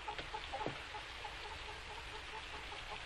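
Hens cluck softly and intermittently in a quiet farmyard setting, faint and somewhat distant against a low background hiss.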